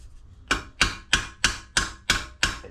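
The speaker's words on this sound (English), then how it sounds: "I'm hitting this smack in the middle, and obviously the ball is spreading the nut out and basically riveting it on." A hammer strikes a ball to spread and rivet a nut on a shed-built bobber motorcycle. Seven sharp, evenly spaced metallic blows land at a steady rhythm, close and clear with nothing else over them.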